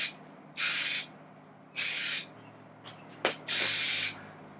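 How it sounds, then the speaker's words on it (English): Contact cement adhesive is sprayed onto foam in three close, loud bursts of sharp aerosol hiss, each lasting about half a second to a second, separated by quiet pauses and a small click before the last burst. "I need to spray the foam as well, so that it's a contact cement"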